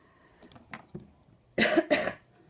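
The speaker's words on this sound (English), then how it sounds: "I have a little bit of a cough today." Two sharp coughs close together, preceded by a few soft throat noises and small breaths, close to the microphone.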